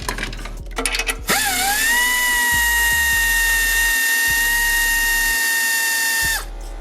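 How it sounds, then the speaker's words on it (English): A power tool breaking loose heat shield bolts on a BMW F13 M6, one loud sustained whine lasting several seconds after a few short bursts, close up, with no talk. "So I'll break them all loose, and then it seems like they can be done by hand after that."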